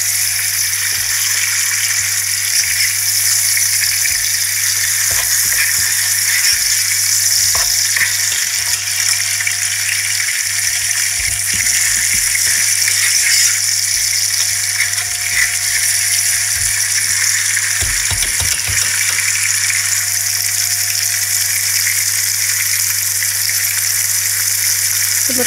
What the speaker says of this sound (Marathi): पुन्हा टोमॅटो छानपैकी असं परतवून घ्यायचा.